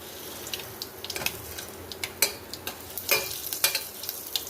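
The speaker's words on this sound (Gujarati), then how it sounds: "1 મિનિટ જેવી લસણની ચટણી તેલમાં ચડી ગઈ છે." Garlic chutney cooking in oil in a pan, with a soft continuous sizzle broken by irregular scrapes and clicks of stirring, fairly quiet and close, with no voices.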